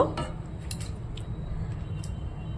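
A utensil stirring and scraping food with chopped coriander in a cooking pan, a few light metallic clinks and scrapes near the start and scattered through, over a low background hum.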